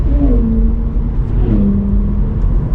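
A Toyota GR86 engine revs up smoothly and accelerates from about 22 to 40 mph, its tone rising through the gears, loud and steady from inside the car.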